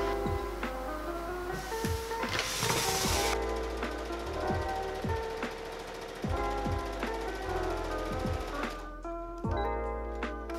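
A sewing machine stitches fabric pieces for a costume around a circular edge, giving a quiet mechanical whir punctuated by regular clacking strokes that start and stop in short runs.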